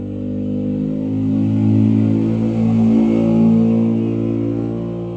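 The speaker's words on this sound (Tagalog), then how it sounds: "Grabe langasa sa mga motor na ngagi" Motor vehicles rumble past outside, a steady low engine drone that swells and fades as traffic goes by, fairly loud and continuous with no talking.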